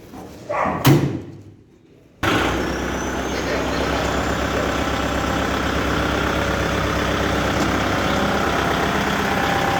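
Kubota MU 5502 tractor engine running at a steady idle, a loud, continuous diesel rumble that starts abruptly after a short clunk and a brief quiet gap.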